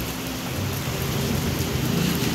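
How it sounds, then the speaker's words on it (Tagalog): A sudden rain shower pours down as a steady, loud, close hiss of falling drops, continuous and even, with no voices. "Ayan, biglang ulan."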